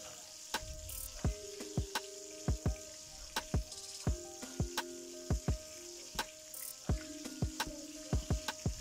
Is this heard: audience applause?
no